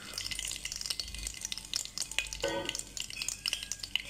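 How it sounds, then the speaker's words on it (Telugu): Cumin, mustard seeds, curry leaves and a dried red chilli frying in a little oil for peanut chutney, with a continuous close crackling sizzle, small pops and light stirring scrapes. "ఇప్పుడు కాస్తంత ఆయిల్ వేసుకొని జీలకర్ర ఆవాలు కొన్ని కాస్తంత కరివేపాకు 1 రెడ్ చిల్లీ అండి వేసి"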